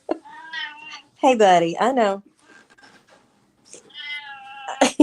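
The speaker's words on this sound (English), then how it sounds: "I'm trying to hear what your cat's saying." A domestic cat meows several times indoors, with drawn-out, rising and falling cries close to the microphone, while a person speaks softly to it in between.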